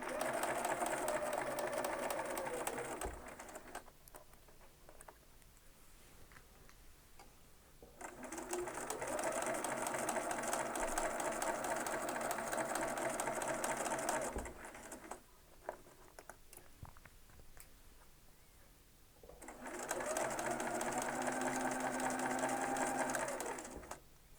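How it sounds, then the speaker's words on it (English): A sewing machine stitches a quarter-inch quilt seam, starting off a thread saver, in three loud close bursts of rapid even whirring separated by quiet pauses. "So we stitch off the thread saver and start stitching our 1/4 inch seam."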